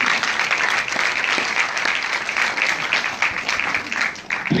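An audience at a family celebration gives a warm, sustained round of applause, many hands clapping steadily at close range.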